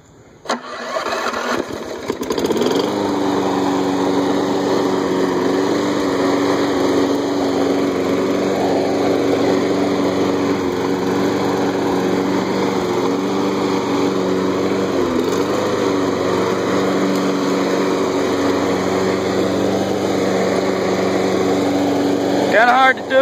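A Toro Personal Pace push mower engine pulled to start, catching after a couple of seconds, then running at a steady, loud close-up drone for the remaining twenty seconds.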